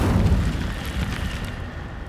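A fire spell cast in Hogwarts Legacy, a loud roaring whoosh with a low rumbling burst at the start that fades steadily over about two seconds, with no talk.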